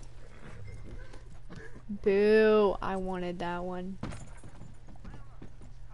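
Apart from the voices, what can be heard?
horse hooves clip-clopping in video game Red Dead Online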